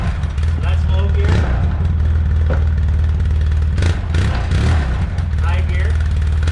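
An ATV engine idles close by in low gear with a steady low rumble and small uneven surges, while someone talks over it.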